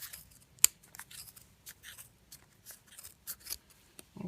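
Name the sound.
scissors cutting pom pom yarn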